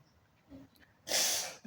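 A single short, sharp sneeze bursts out after a faint breath, close and fairly loud.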